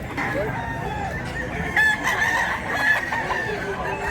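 A two-year-old gamecock crows repeatedly amid clucking hens at a poultry market in Mantalongon, Cebu, the calls loud and close, with faint talk underneath.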